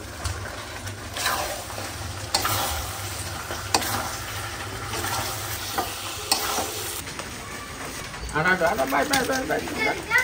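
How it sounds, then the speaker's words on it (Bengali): Fried roast pieces are added to a hot pan; food sizzles and crackles steadily while stirred, a voice speaks over it, and a louder burst of frying comes near the end. "ভাজা রোস্টগুলো দিয়ে দিচ্ছি।"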